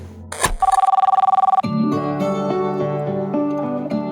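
A telephone rings with a rapid trilling bell after a brief knock, then music swells in and continues.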